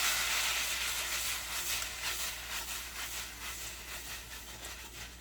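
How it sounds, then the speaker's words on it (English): Pork strips stir-fried in a pan with a spatula, giving a steady close sizzle and hiss with soft scraping strokes, fairly quiet and slowly fading, no voices. "Start stir-frying the pork using a spatula or tongs."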